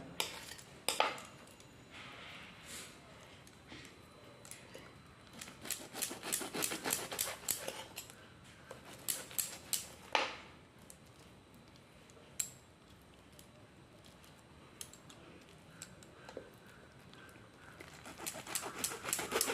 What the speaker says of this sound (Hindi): अब मैं इसको पीस पीस काट देती हूँ